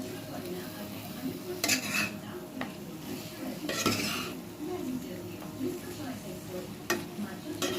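Chicken pieces go into a pan of spicy masala for a Bengali chicken kosha and get stirred, with a soft sizzle under repeated scrapes and clinks of a utensil against the pan.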